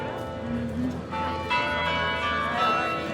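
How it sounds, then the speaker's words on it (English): Church bells ring out over the old town of Gdansk, Poland, a layered metallic peal heard from a distance in the open air, steady and moderately loud with the bustle of a street around it. "Hear the bells."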